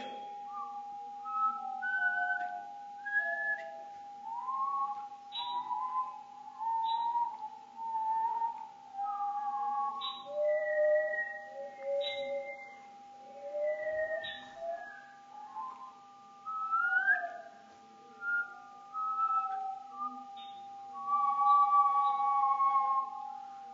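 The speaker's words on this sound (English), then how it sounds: "you can also hear it with the gliding tone, because you're actually hearing two gliding tones" Two whistle-like gliding tones, one rising and one falling, move in opposite directions over a steady hum. They sound clear and fairly faint, in repeated sweeps.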